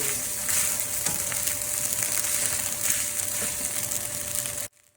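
Fish fried rice stirred in a hot pan, a dense continuous sizzle with scraping and rustling from the utensil, close and steady, stopping abruptly near the end, no talking.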